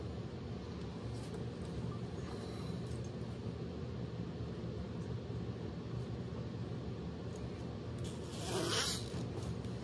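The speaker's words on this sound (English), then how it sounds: "Zips up quite nice." A cheap Temu jacket zipper gives one brief rasping zip near the end, after a long stretch of steady background noise.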